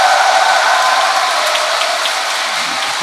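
A church congregation at a charismatic seminar Mass clapping together, a dense continuous burst of applause lasting about three seconds, loud and close, fading slightly near the end.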